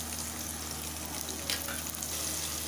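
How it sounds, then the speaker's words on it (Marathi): Chopped onion fries in a few spoons of hot oil, producing a continuous soft sizzle up close with a couple of brief stirring clinks. "कांदा भाजतोय आपल्या इकडं"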